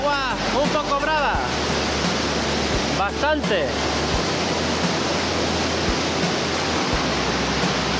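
Rough river water rushing loudly and steadily at a river mouth, a continuous broadband roar dominating throughout, with someone briefly talking over it near the start and middle.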